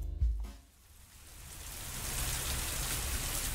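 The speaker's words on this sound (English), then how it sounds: "I've always hated the rain." Steady rain falling in the video game Moral Retrograde, a dense hiss that swells after a brief low thump at the start and then holds constant, with no voices.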